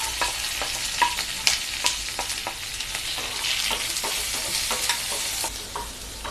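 Onions fry in a pan with curry leaves, green chillies and garlic for a South Indian raw banana stir-fry, a steady sizzle under intermittent scraping and clicking as the mixture is stirred, with no talking.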